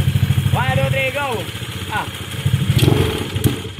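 Motorcycle engine revving at full throttle during a pre-race rev test, loud idle pulses rising into rapid revs with people talking over it.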